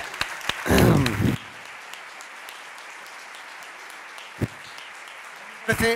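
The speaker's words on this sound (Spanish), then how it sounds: "Por favor, un aplauso" An audience at a percussion concert claps in steady, moderately loud applause for several seconds, framed by brief sounds before and after.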